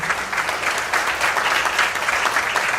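Hall of Fame banquet guests at the Michigan Irish American Hall of Fame 2018 clap for Kevin Donovan, a dense, even wash of applause sustained for a few seconds with no voices over it.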